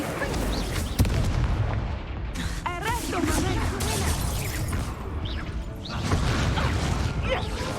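An Incendio fire spell in Hogwarts Legacy crackles and bursts amid busy game combat, with booming impacts and whooshing effects layered over music and a voice speaking.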